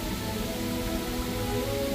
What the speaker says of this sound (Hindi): पानी के करीब जाते हैं वैसे वैसे बारिश का पानी का शोर और पानी की धारें जब ऊपर की तरफ जाती हैं